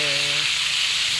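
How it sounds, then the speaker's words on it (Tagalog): Hot oil spattering loudly around fish frying in a pan, a dense close hiss and crackle, with a brief voice at the start. "Nagatalsik ang mantika"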